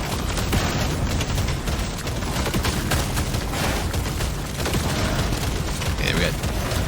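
Turrets fire without a break in the video game Deep Rock Galactic: Survivor, a dense, loud barrage of rapid gunfire and booms with other game sounds. The din runs the whole time, and a voice may talk under it.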